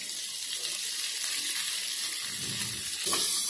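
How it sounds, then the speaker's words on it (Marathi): Onion goes into hot oil with garlic, cumin and asafoetida for a dry fish chutney, a steady hiss of frying with a brief louder burst and clatter near the end. "आता आपण हा कांदा आहे ना हा टाकून घेऊया।"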